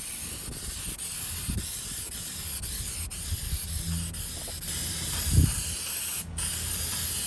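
A spray paint can hisses steadily while coating a retro Craftsman wall-mounted carpenter's tool box, the continuous spray close and unbroken, with a few faint knocks and handling bumps underneath and no talk.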